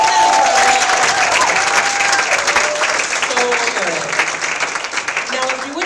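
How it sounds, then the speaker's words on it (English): A church congregation at a Sunday morning service gives a loud, sustained round of applause that continues steadily for about six seconds, with faint voices mixed underneath. "give him one more round of applause"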